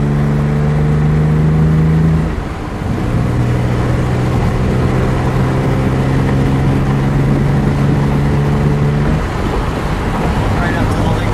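A 1957 Aston Martin DB2/4 Mark III saloon engine while driving, a loud steady droning hum with sustained tones, a brief dip then holding speed, with faint talk inside the car.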